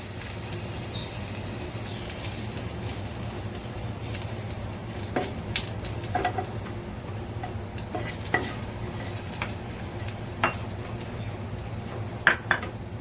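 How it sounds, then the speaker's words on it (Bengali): Garlic dropped into hot oil for a Bengali pabda fish curry, giving a steady low sizzle throughout, with occasional sharper pops and clinks from stirring near the pan. "তেলটা তেতে গেছে রসুনগুলো তেলের ওপরে দিয়ে দেবো"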